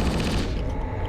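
Rapid, dense gunfire from Halo 3, loud and continuous with overlapping shots throughout, and no talking.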